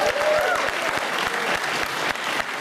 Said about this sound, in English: So give everyone here a big cheer.